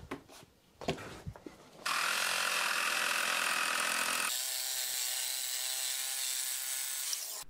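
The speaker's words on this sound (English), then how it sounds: "The wheels are also a bit rubbish and they make a funny sound." Single-caster skate wheels rolling with a loud, continuous whirring buzz that starts abruptly after a few scuffs and clacks, then drops to a slightly different steady tone partway through.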